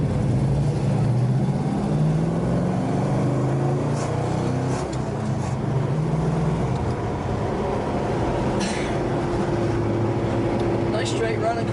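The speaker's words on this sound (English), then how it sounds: "It's a nice running car." A 1969 Plymouth Road Runner running down the road, its engine droning steadily with a low harmonic hum and road noise throughout, heard from inside the car while someone talks over it.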